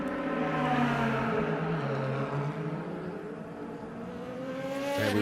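A DTM race car rounds the Remus turn, turn 2 at the Red Bull Ring in Spielberg during qualifying, its engine loud and near as it downshifts and then climbs steadily in pitch under acceleration.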